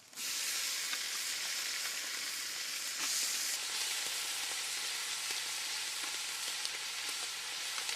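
Mutton pieces frying in a pan for curry, giving a dense, steady hiss of sizzling fat close up, broad and unbroken for the whole stretch with faint stirring ticks underneath.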